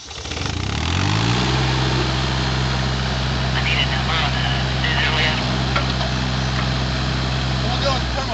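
A track hoe's diesel engine settles from a revving start into a steady, loud rumbling idle while the machine is loaded onto a trailer, with people talking over it.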